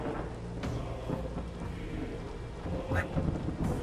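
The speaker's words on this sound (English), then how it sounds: "well, we're in Ireland, so it's raining." Thunder and steady rain in the horror video game The Seance of Blake Manor, set in rainy Ireland: a continuous low rumble with heavy rainfall, swelling into louder thunder cracks near the end.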